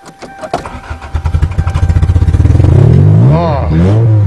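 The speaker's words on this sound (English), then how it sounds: "so now see if it cranks" Toyota engine cranks with a rapid rhythmic starter churn, then catches and fires up into a loud, rising rev before settling, right up close.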